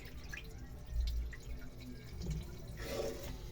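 Sticky rice is washed in water, giving faint, close sloshing and dripping with soft splashes at a low level, no speech over it.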